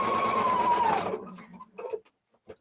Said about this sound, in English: I can take something like this, which is 9 layers of denim, heavy, heavy denim, and sew through that